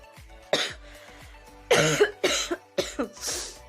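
A person sick with a cold and fever coughs repeatedly, several harsh, close bursts in an uneven cluster, some doubled, with throat-clearing sounds between them and no speech.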